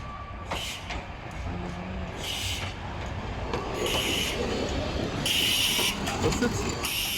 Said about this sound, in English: I can hear the siren, but I can also hear the train.